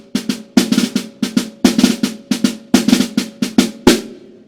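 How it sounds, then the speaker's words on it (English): Snare drum played alone in repeated short figures: quick 64th-note frisé flams building into a sharp accented stroke, each burst crisp and close, recurring at a steady pulse for several seconds. "Later on in the piece, we have another example of a 64th note Frisé"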